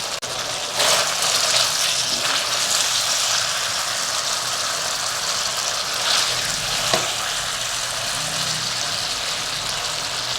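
Dry chili chicken fries in a pan as the sauce reduces, a close, steady sizzle and crackle with occasional louder spatters and stirring scrapes over a low background rumble.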